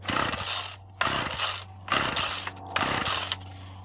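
A Ryobi 740r string trimmer, just out of winter storage, is pull-started four times in a row, each rattling cord yank followed by a short sputter that dies away without catching, loud and close.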